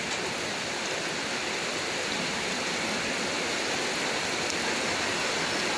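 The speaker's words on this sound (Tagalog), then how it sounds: "Kusog gayong ulan guys." Heavy rain pours down in a steady, dense hiss that stays even and loud throughout, with no voices and no pauses.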